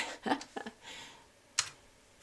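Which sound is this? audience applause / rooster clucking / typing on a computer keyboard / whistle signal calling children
typing on a computer keyboard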